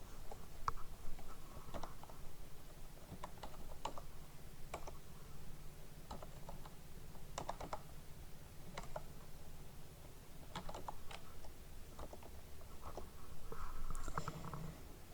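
Quiet computer keyboard typing as text is entered, scattered light key clicks in short irregular bursts against faint background hum, with no voices.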